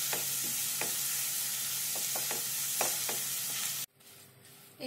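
Ground garlic and ginger paste sizzles in a hot pan for a drumbeat of seconds, a steady close fry hiss with repeated spoon scrapes and taps, then cut off abruptly into quiet before the hiss returns.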